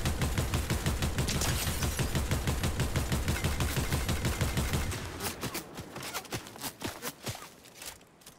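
Rapid gunfire in Fortnite during a solo match, a dense continuous burst for about five seconds, then scattered separate shots and footsteps trailing off.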